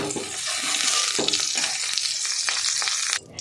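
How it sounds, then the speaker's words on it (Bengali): Eggplant fries in hot oil in a pan with a steady, loud sizzle and brief bursts of spatter, continuing alone until it cuts off abruptly near the end. "বেগুনটা ভেজে নেব।"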